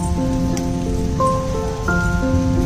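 Rain falls as a steady, even hiss, with sustained tonal notes layered over it throughout and no voices.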